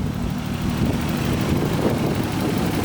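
The engine of a Nissan A31 Cefiro with an HKS boost gauge idles quietly with a steady low hum and smooth rumble, close by and unchanging, with no voices over it.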